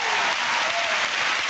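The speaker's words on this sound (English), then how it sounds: "your relatives applaud" Studio audience applauding steadily and loudly throughout, a dense wash of clapping with no break.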